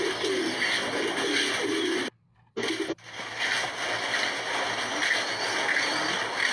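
A bird calls repeatedly at moderate distance in the rural Philippines, soft cooing notes over a steady background hum, with a brief dropout partway through.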